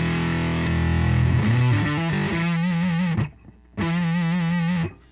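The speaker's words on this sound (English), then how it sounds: "Here's my 72 Les Paul standard." A 1972 Les Paul Standard through an Amptweaker TightFuzz Pro fuzz pedal with a thick, heavily distorted, bass-heavy sound: a dense strummed chord, then sustained wavering fuzzed notes, a brief gap and another held note, loud and alone.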